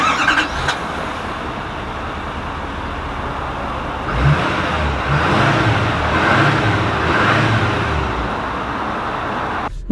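A 2020 Chevy Silverado 3500 High Country dually pickup sets off, its engine starting to pull with a low, rising rumble after a quieter cabin hum, steady and close.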